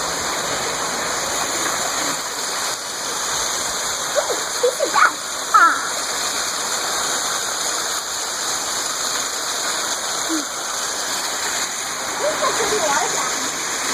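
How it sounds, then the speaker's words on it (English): Steady splashing water from a fountain in a Japanese garden fills the scene, a constant hiss with a few faint voices briefly in the background. "It's a very pretty water fountain."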